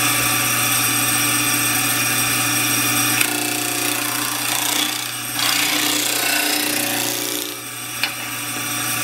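A WEN 12-inch benchtop disc sander grinding a piece of pine: a steady motor hum under a continuous abrasive rasp, loud and close, with brief changes in pressure.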